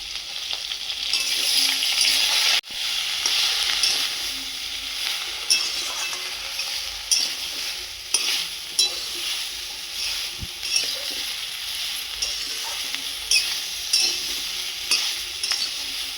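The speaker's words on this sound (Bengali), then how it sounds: "ভাজা ভাজা গন্ধ বেরোলে দিয়ে দেবো বড়ি।" Bori lentil dumplings frying in oil in a wok with five-spice tempering, dried chilli and bay leaf, a loud continuous sizzle broken by frequent stirring scrapes and clinks, no talk.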